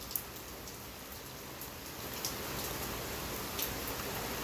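Steady rain falls outdoors, a dense even hiss of drops with occasional louder patters on nearby surfaces, continuous and without any voices.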